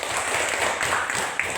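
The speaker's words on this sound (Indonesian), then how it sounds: "tepuk tangan untuk si Viola yang sudah menyajikan kita kopi" Applause for Viola from a classroom group, a brief, dense and fairly loud wash of clapping with no gaps.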